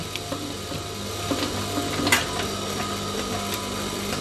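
A sewing machine stitches a back pocket on baggy trousers, giving a steady mechanical whirr and a light ticking rhythm with occasional louder clicks, no voices.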